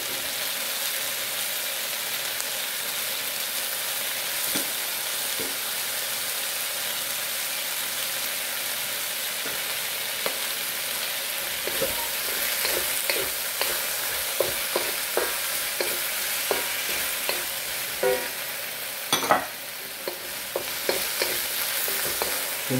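Kung Pao chicken with peppers stir-fries in a hot pan, a steady loud sizzle broken by scattered clinks and scrapes of stirring, with no talking.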